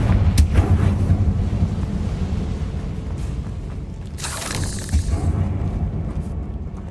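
Confringo fire blast spell from Hogwarts Legacy, heavy low booming rumble rolling through the whole stretch with a sharper burst partway through, loud and close.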